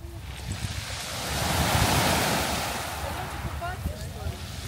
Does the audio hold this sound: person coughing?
no